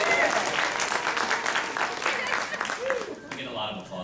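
A crowd at the 2010 New York Comic Con panel for the series Riese bursts into loud applause and cheering, with voices and shouts mixed into the clapping.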